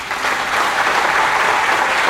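A short, even burst of applause from a student audience at a Martin Fayulu manifesto presentation in the Democratic Republic of Congo, dense clapping heard alone without talk.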